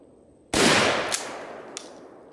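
A Mossberg Model 88 12-gauge shotgun fires one loud, sharp blast that decays slowly, with two fainter cracks or echoes following in quick succession; no talking.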